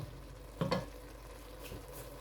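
Minced meat keema with tomato and onion cooks down in a pan, giving a soft, steady sizzle, with a couple of brief stirring scrapes near the start and another faint one later.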